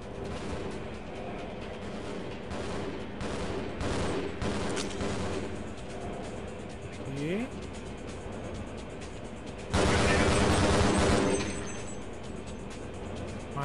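Gunfire in the shooter game Half-Life, with scattered shots over a rumbling background during the first few seconds, then a short, loud burst of heavy firing near the end.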